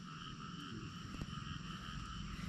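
Paddy frogs croak in a rice field in steady, overlapping repeated calls that carry on without pause at moderate loudness, with no voices.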